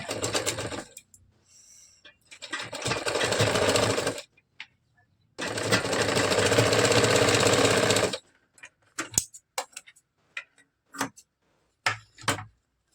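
A sewing machine stitches a katori blouse, running in two long steady whirring passes, then stopping and starting in short rapid bursts, close and alone.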